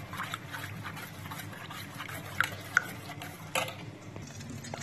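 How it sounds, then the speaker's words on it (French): A flour and milk mixture stirred in a pan, soft, steady scraping with a few sharper taps of the utensil against the pan, close and without talk. "et on remue."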